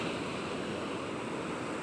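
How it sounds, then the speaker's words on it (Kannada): Sea waves wash onto a beach at sunrise as a soft, steady rush, fairly faint and distant, with no voices and only a slight breath of wind. "ಸಮುದ್ರದಲ್ಲಿ ಒಂದು ವಾಕ್ ಮಾಡ್ತಾ ಸನ್ರೈಸ್ ನೋಡ್ತಾ ಈ ಅಲೆಗಳ ಸದ್ದು ಕೇಳ್ತಾ"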